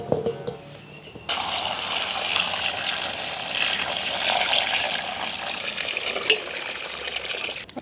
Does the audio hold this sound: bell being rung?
no